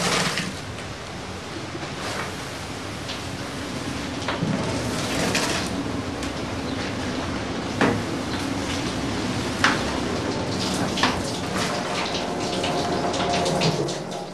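Hot beeswax-water mixture running through a pressing cloth into a wooden tub, a steady close splashing flow with occasional sharp knocks and clatters over the continuous pour.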